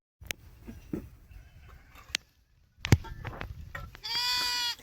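Young lambs bleat in a sheep pen while the adult ewes are away grazing, with several short, wavering cries scattered across the clip and a long, loud bleat close by near the end.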